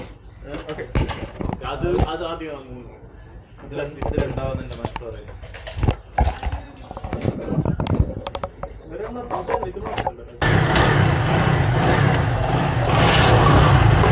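A motorcycle on a road in Saudi Arabia starts up and pulls away, a steady loud engine roar taking over after a stretch of close talking.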